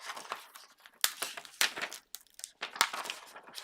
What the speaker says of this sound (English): And now I'm going to peel back.